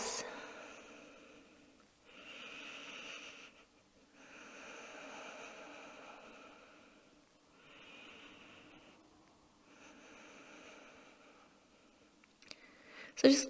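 Slow, steady breathing from a person resting in yoga child's pose: about five long, soft breath sounds, each lasting one to three seconds with short pauses between, faint and close, with no talking.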